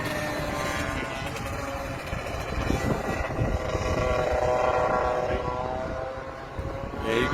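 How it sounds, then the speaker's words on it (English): Racing motorcycle ridden by a newcomer at quarter throttle during stock qualifying at Pembrey circuit, its engine spluttering and droning at a distance, rising and falling as it passes, steady and fairly faint. "we've got a newcomer feeling his way around on quarter throttle or something. You could hear the engine splutter."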